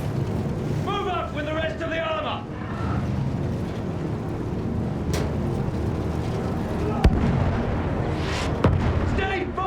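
Field gun artillery fire in a Battlefield video game, a constant roar of booming battle noise with a few sharp cracks of impact, heavy and continuous, with shouted voices briefly mixed in early on.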